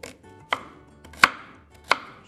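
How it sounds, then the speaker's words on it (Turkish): Knife chopping onions into large chunks on a board for a Turkish home-style dish: three sharp, separate chops spaced roughly evenly, close and clear, with no talk. "soğanlarımızı iri kuşbaşı şeklinde doğrayacağım"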